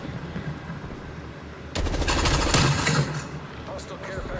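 Rapid automatic gunfire in Call of Duty Black Ops Cold War, a loud burst that starts abruptly after a quieter stretch and rattles on for over a second before trailing into scattered shots and game noise.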